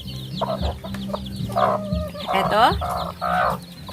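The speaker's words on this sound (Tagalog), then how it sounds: "Ito ang aking native chicken." Native chickens cluck and call inside a homemade cage, several birds sounding close with repeated cackling bursts over a steady background hum.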